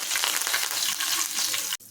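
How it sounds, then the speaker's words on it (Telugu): Curry leaves hit hot oil in a pan just after the stove is switched off, giving a loud, close, hissing crackle that runs steadily and then cuts off abruptly. "కొంచెం కరివేపాకు రెబ్బలు వేస్తున్నాను."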